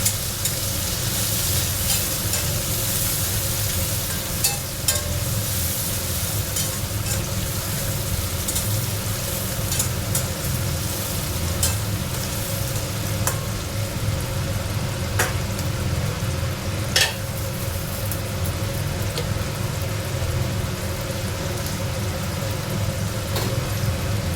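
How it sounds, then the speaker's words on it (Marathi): Bitter gourd frying in a pan gives off a loud, continuous sizzle that holds steady for the whole stretch, with occasional faint clicks and no voices. "आणि मग फ्राय करून घेणार थोडं टाकून"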